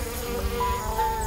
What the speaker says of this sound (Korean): 주둥이가 길고 힘이 센 뒤엉벌이 단골 손님이죠.